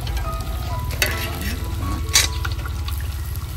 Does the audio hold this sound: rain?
no